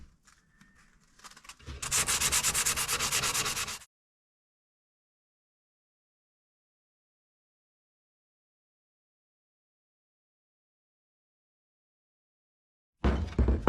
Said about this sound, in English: basically I'm just gonna sand this until it's nice and smooth and looks good.